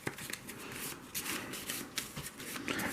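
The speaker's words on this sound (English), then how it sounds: "shuffle this one really good" A deck of game cards for a zombie dice game being shuffled: a continuous, close riffling rustle of cards with quick flutters and soft slaps, alone for a few seconds.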